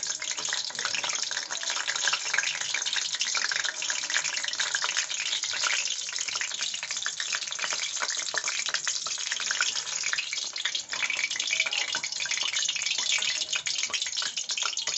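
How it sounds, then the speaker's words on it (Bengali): Water lily stems dipped in batter with chopped onion and chili, frying in hot oil: a dense, steady sizzle holds close and loud throughout with no talk. "গোল্ডেন করে ভেজে নেবেন"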